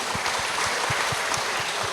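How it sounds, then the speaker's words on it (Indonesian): Audience applause for East Java at an Indonesian talk-show event on pre-wedding health checks, a steady wash of many hands clapping at even loudness throughout, with no speech over it. "Tepuk tangan dulu untuk Jawa Timur."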